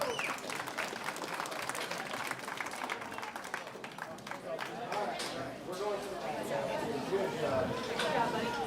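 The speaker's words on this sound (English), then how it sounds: "Give all of them a big round of applause." An arena crowd at a county junior livestock show claps for the young participants, sustained applause under scattered chatter and voices that grows slightly busier toward the end.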